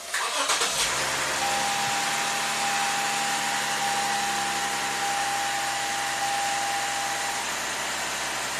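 A 2015 Lexus IS250 V6 cranks briefly and catches, then settles into a high, steady idle with a constant whine, the fault being an idle stuck around 2,100 RPM; heard up close with no voices.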